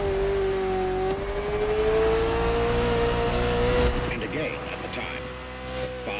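A Ferrari sports car engine revs in the racing video game The Crew Motorfest, climbing in a steady rising drone that is loud and close. Someone speaks over it.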